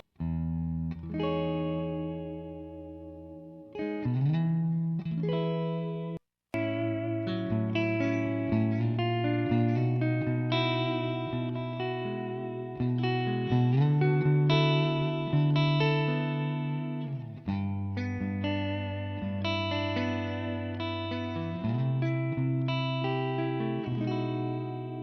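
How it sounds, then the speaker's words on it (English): Electric guitar played through a clean amp with plate reverb, sustained chords and melodic notes ringing out with a lush reverb tail, steady and fairly loud with a brief gap near the start. "I'm gonna turn on some plate reverb, and this is just the amp clean."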